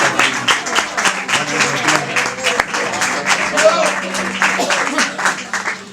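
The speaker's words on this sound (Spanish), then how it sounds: "No aplaudáis" An audience at a talk with an actor claps steadily in a loud, close burst of applause, with a voice speaking over the clapping.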